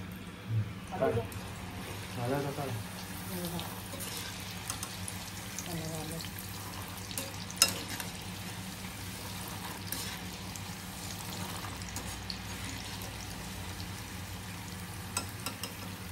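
Chickpeas coated with garlic and batter frying in hot oil, Koliwada style, a steady low crackle of the oil running throughout, with a few brief clinks and taps of a utensil now and then.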